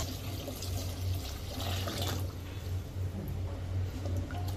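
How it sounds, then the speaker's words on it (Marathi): Amla gooseberries are washed by hand under running water in a kitchen. Steady splashing and trickling continue at an even level, close up and without talk. "आता ते आपण स्वच्छ पाण्याने धुवून घेऊया."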